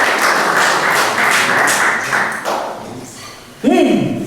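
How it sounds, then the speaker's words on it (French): Applause from a church congregation at an evening prayer gathering, a steady wash of many hands clapping that fades toward the end before a loud tonal burst cuts in. "Applaudissons ces frères et sœurs."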